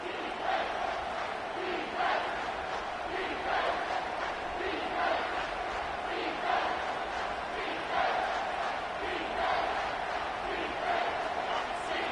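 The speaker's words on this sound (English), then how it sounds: "this crowd will blow out a vocal cord to help this defense" A packed stadium crowd roars at a college football game between SMU and Washington, a loud, sustained wall of noise swelling in waves on third down as fans try to help the defense, with a commentator talking over it.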